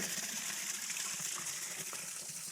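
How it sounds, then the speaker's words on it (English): Water flowing hard through rocks and disappearing into a cave system, a continuous loud rushing gush close by with no speech. "It must be a cave system because this water is running hard."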